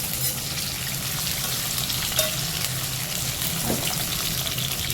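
Stuffed spiny gourds frying in oil for a curry, stirred with a utensil, give a steady close sizzle and crackle with faint scraping throughout, no talking.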